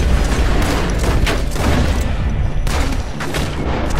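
Gunfire in the video game Red Dead Redemption 2, a loud dense run of repeated shots and booms over continuous game noise, no talk.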